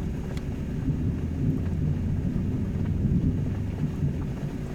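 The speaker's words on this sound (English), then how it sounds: "Getting a little bit of thunder out there." Thunder rumbles low and distant during a storm, a continuous muffled rolling that stays fairly steady in loudness with no speech over it.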